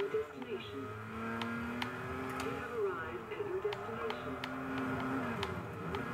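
Video game car engine drones and shifts pitch steadily, with faint tire sounds, while someone talks over it throughout.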